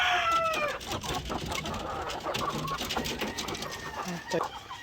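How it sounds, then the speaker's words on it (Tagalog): Chickens from a White Leghorn and Black Australorp cross cluck and call on a farm, several birds close by amid busy background noise, with a person talking over them. "Ito pala yung white leghorn cross ng black australorp natin mga ka-farmers."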